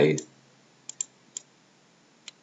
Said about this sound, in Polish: I klikamy OK.